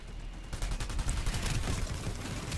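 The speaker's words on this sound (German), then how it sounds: "wo kommen die Schüsse jetzt her?" Rapid gunfire in the shooter game Planetside 2, dense bursts of shots crackling continuously and loudly throughout with no pauses.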